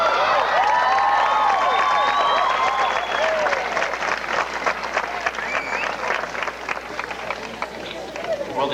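Applause and some cheering from the crowd at a 1984 college commencement, loud and sustained, mixed with crowd babble and a voice talking over it.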